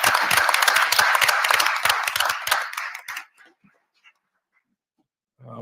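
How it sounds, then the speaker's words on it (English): An audience at a village board meeting in Dolton claps as a group in a brisk, dense round that lasts about three seconds. It tapers to a few scattered claps, then quiet, then a brief low sound at the end. "give a round of applause to the employees for the Village of Dalton"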